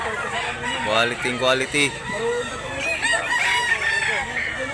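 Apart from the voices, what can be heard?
chickens crowing and clucking at a market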